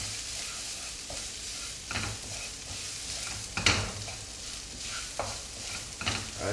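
Poppy seeds frying in mustard oil, cooked for Oriya aloo posto bhaja, hiss in a continuous close sizzle with occasional stirring knocks against the pan, and no talking.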